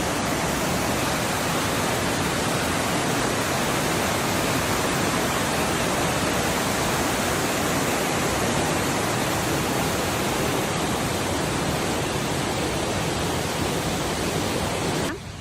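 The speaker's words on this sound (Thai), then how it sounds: "ชั้นสองของน้ำตกสะพานครับ" Sapan waterfall's second tier in Nan, Thailand roars in a continuous, loud broadband rush of falling water, close and unbroken, with no voices over it.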